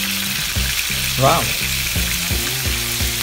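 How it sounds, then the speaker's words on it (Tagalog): Milkfish frying in plenty of hot oil, a loud close sizzle and crackle throughout with rhythmic tonal clicks, and a brief exclaiming voice midway. "yung tunog ng isda sa mainit na mantika"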